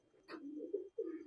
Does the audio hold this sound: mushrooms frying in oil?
no